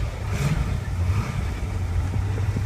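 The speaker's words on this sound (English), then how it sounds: "so I might just keep my foot on the throttle" A cold 1965 Corvette roadster engine runs with the throttle held open, a steady deep rumbling drone close by, with no speech.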